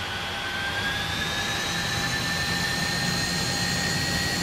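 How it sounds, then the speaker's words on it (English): Jet engine spooling up at full throttle for takeoff in Microsoft Flight Simulator, a steady loud roar with rising high-pitched whine tones throughout, no talk. "And we are cleared for takeoff. So, here we go. Full throttle."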